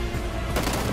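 Gunfire in the battle-royale game PUBG during a duo tournament final, a dense burst of shots that thickens into rapid, loud firing partway through, with no voices over it.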